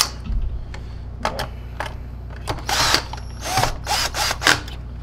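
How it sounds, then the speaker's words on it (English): Short bursts of a power drill whirring in stops and starts, tightening screws on a SEBO ET-H vacuum cleaner powerhead under repair, with clicks and mechanical rattles between them, close by. "I'm going to grab my drill and torque it properly."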